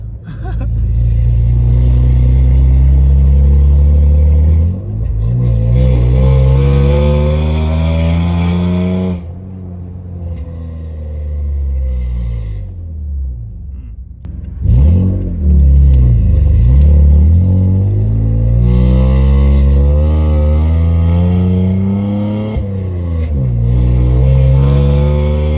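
Toyota Tacoma with URD extractor pipes, Y-pipe exhaust and a manual gearbox revs hard and close, its engine note swooping up and down through repeated throttle blips with short quieter lulls between pulls.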